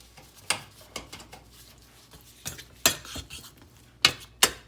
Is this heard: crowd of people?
no